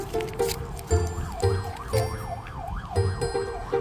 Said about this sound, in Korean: 사이렌 소리가 들리네요.